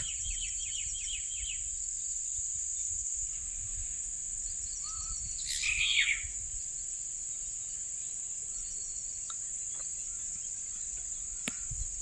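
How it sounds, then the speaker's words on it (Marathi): Countryside evening with steady insect or cricket drone, a few distant bird chirps and calls, and a soft low wind rumble throughout. "एकदम शांत फक्त वाऱ्याचा आवाज आणि पक्ष्यांचा आवाज"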